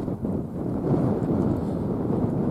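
A strong wind in the taiga rushes in a dense, continuous roar, buffeting the microphone at close range with no break.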